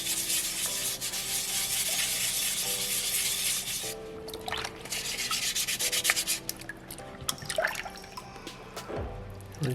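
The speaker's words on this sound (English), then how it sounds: "if I'm just working on like a broader area, I'll just open that sandpaper up to just cover as much surface area as possible" Sandpaper rubs across a soapstone carving in quick, close scratchy strokes, then gives way to intermittent lighter rubs and soft wet dripping sounds as the stone is rinsed.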